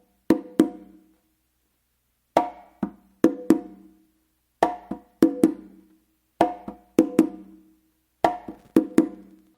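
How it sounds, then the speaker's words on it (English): Hand strokes on a set of three congas play a Matanzas-style guaguanco, mixing sharp slaps with soft ghost notes and muffs in short repeating clusters, close and dry with no talking. "a close slap with your left hand, and then a ghost note with your right"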